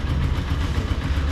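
A Honda TMX 125 motorcycle engine runs on its first ride after purchase, a steady, loud, close rumble with no pauses and no voices.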